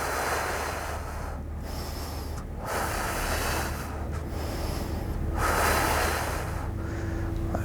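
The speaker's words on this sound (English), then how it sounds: "There's like a little bit of trembling as I breathe" Deep, shaky breaths during a McGill curl-up core exercise, loud and close to the microphone, each slow inhale and exhale carrying a faint tremble, with no talking.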